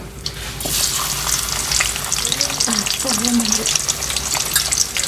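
Onions sizzling loudly in hot oil in a pan, a steady close crackle of frying that runs throughout with slight stirring, and no speech.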